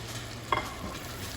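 Mapo eggplant sizzles softly in a pan once green onion goes in, a faint continuous frying hiss with one brief sharp clink partway through.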